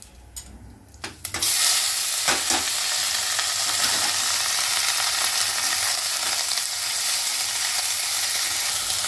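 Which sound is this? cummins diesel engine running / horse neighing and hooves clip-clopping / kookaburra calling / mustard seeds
mustard seeds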